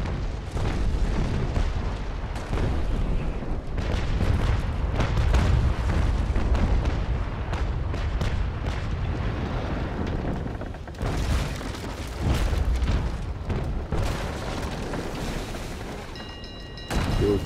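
Naval cannons boom in the age-of-sail game Naval Action, a dense, loud, continuous barrage of heavy blasts and rumbling impacts with little pause.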